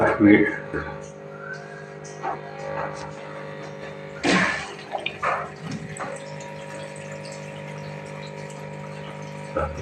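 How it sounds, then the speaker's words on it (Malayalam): A washing machine fills weakly with a thin, faint trickle of water before its filter is cleaned, over a steady mechanical hum, with someone talking throughout and a few clunks. "ഇതിൻ്റെത്തേക്ക് വെള്ളം വീഴുന്നത് വളരെ കുറവാണ്"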